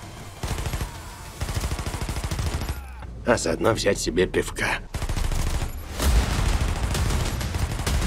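A gold Taurus CT9 G2, upgraded with mods and fired in the shooter game Warface, lets off rapid automatic bursts that cut out while someone talks briefly. Then the close, loud fire starts again.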